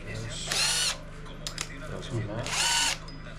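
Two loud bursts of a power drill pre-drilling holes in a cabin's wooden sill beams, each about half a second long, with short pauses and faint handling noises between them.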